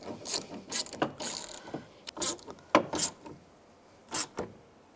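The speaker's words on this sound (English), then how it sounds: "Tighten the nuts down." Quick clicking bursts of a ratchet tightening nuts on a Chevy Trailblazer window regulator, several short separate runs of close metallic clicks with pauses between.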